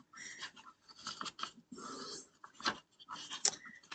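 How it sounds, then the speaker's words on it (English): Dog panting and chewing in the countryside, quick close breathy pants mixed with wet mouth and chewing noises in irregular bursts, fairly quiet, with no talking. "Dogs will be dogs."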